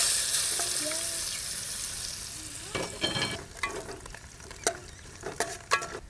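Coconut pieces and curry leaves frying in coconut oil for Kerala beef fry, a loud hiss that eases off, then bursts of sputtering crackle and spoon scrapes, close up with no talking.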